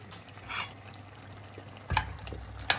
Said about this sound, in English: I'm going to add my vegetable stock. I'm just going to break it in, stir it